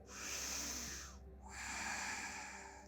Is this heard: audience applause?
no